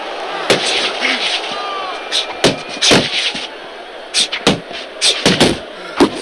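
Sharp, punchy impacts of uppercuts landing in the boxing video game Fight Night Champion, heavyweight bout, come in irregular bursts over a steady crowd roar, several hits clustered close together near the end.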